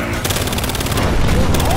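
Rapid bursts of automatic gunfire crackle loudly and continuously in the video game Battlefield Hardline while a vehicle drives, the shots layered over engine rumble, with a voice talking over them.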